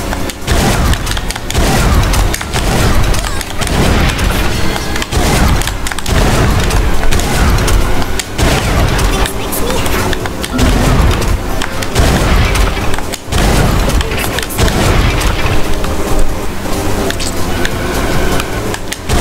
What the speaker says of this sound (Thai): ปืนมิสไซล์ของไอ้ด็อกเตอร์เอ็นกินเนี่ยแม่งสุดยอดสุดละโกงสุดละ